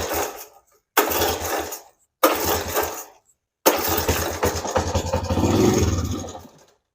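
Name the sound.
1977 Honda ATC 90 engine starting with choke on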